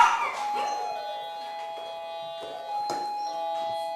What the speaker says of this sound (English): So we're desensitizing her to the sound of the doorbell.